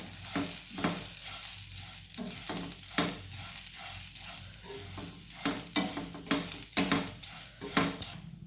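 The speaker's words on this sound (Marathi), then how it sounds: "पॅन गरम झाला आहे त्यात आहे ही मटकी बघा मटकी चांगली भाजून घेऊया पहिल्यांदा" Moth beans (matki) dry-roasting in a hot pan on a gas stove, stirred with a utensil: soft, continuous sizzling broken by regular scraping and rattling strokes, close and moderately quiet, with no voices.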